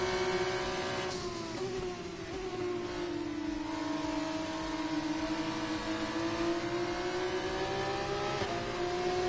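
A Formula 1 car engine whines steadily in the F1 24 video game while running in another car's slipstream. The high, sustained tone rises and falls slightly with small shifts in revs and is heard alone without talk.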